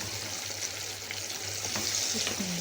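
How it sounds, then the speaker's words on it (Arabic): Eggplant slices fry in hot oil while being turned and stirred, giving a steady close sizzle with faint scraping and clinks, no talking. "هنا بقى نبتدي نقلب البتنجان بتاعنا"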